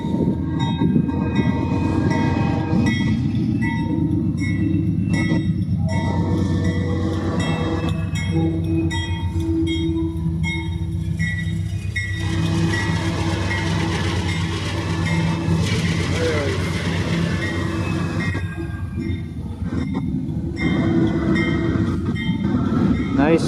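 Eastbound freight train number 114 rumbles steadily past on the north track, loud and close, with continuous wheel and car noise and a brief horn-like tone, sustained throughout.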